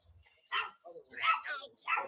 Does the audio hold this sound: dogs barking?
yes